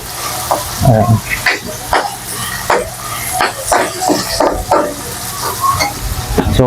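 Chicken pieces for pinakbet fry and get stirred in a pan, a steady close sizzle broken by repeated scraping stirs, with a brief word spoken near the start.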